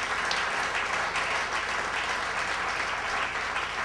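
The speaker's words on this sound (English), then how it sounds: "Let's give them a round of applause for letting us crash their offices." Steady applause from an audience gathered in an office for a startup launch event, an even, continuous patter of many hands lasting the full four seconds, fairly soft and with no talk over it.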